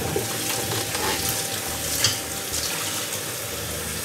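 Fumbwa leaves are washed in water, a continuous wet swishing and splashing with small clinks, steady and close throughout.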